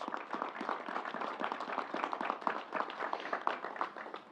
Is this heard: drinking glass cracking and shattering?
no